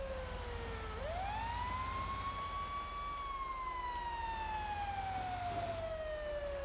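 Wailing fire truck siren from a video game roleplay, a single continuous tone sweeping down then rising and slowly falling again, loud and steady over a low engine rumble with no talking.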